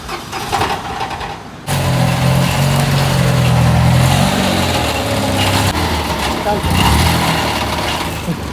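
A Tata Nano LX car engine cranks and catches, then runs at a steady, rough idle with a raspy exhaust hinting at silencer trouble; voices talk over it.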